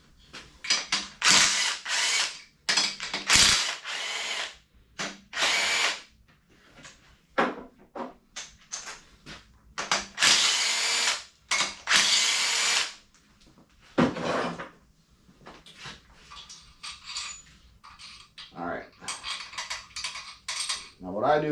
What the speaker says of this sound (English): I'm going to take them off using my impact